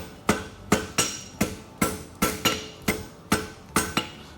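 Steady, evenly spaced hammer blows ring on an anvil as a farrier forges a fullered straight bar horseshoe, about ten sharp metallic strikes in a regular rhythm with no talking.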